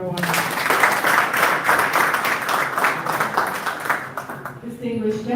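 Audience applause at a formal Gambian government event on national enterprise architecture, several seconds of clapping from a room of guests that thins near the end as a voice returns.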